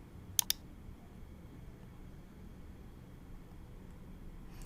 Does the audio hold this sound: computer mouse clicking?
yes